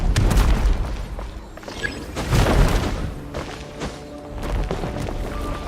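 A breakable wall gets smashed in Genshin Impact, loud booming crashes and thuds in a few heavy waves of rubble, no talking.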